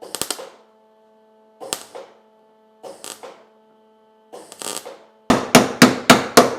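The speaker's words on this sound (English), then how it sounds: "then I can adjust that with a hammer if need be" A hammer striking the welded front quarter panel of a VW Beetle: short clusters of two or three metallic blows separated by pauses over a faint electrical hum, ending in a quicker run of about six sharp hits.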